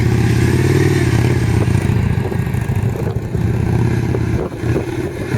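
A Victory Vision touring motorcycle carrying two riders doing slow U-turns, its engine close and loud with a steady low throbbing idle and mild throttle changes, no talk.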